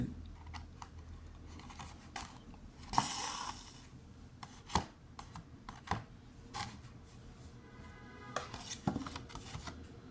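An eraser rubs out pencil lines on card for a geometric octagon design, giving soft, close scratchy rubbing strokes with a few sharper taps and a brief louder burst of friction, all fairly quiet and with no voices.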